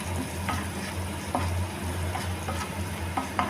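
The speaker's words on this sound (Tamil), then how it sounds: "நல்லா மிக்ஸ் பண்ணி விட்டுக்கோங்க." Chicken Manchurian with chilli powder is stirred in a sizzling pan, with a constant frying hiss and low burner hum broken by a few distinct scraping clicks of the spoon against the metal.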